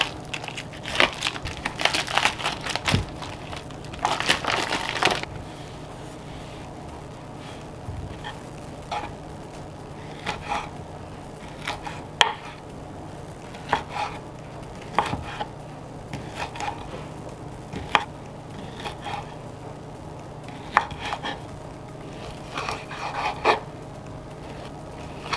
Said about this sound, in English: I cut them up into small little pieces